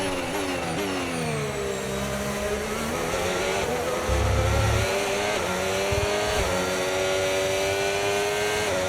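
F1 cars in the racing game F1 25 scream off the line at a sprint race start in Miami, a dense, loud whine of engines rising through the gears with overlapping cars around.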